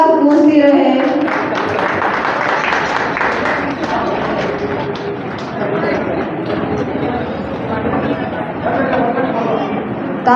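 Applause from an audience at a school alumni get-together fills the whole stretch, a steady dense patter of clapping with voices and chatter mixed in throughout.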